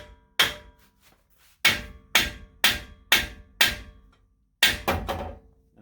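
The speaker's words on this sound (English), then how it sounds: "So what you do is you hit the side of the knuckle" A hammer strikes the side of a steering knuckle on a CJ-7 axle to free the ball joint, six loud metallic blows in an uneven rhythm, each ringing briefly before fading, two landing close together near the end.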